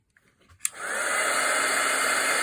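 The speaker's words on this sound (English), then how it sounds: "Better put the lid on while I use the heat tool." A handheld heat tool switches on with a click and settles into a steady, loud blowing whoosh, close by, used to melt gilding powder; no talk.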